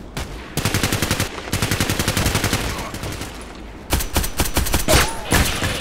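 Rapid gunfire from a rifle in Contract Wars, an online shooter, set to single shot: a fast steady string of sharp loud shots, a short pause, then another burst, close and dominant.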